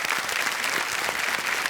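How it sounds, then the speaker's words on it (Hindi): A studio audience on a TV quiz show breaks into dense, sustained applause, loud and close, filling the whole moment with steady clapping. "तालियां बज जाए इनके लिए।"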